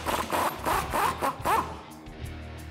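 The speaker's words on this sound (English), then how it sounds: "So I'm gonna use a 21 millimeter socket to get this guy off." 21 mm socket wrench working a bolt nut loose on a RAM 1500 front suspension: about five quick, raspy ratcheting strokes close by, then fainter scattered clicks as it stops.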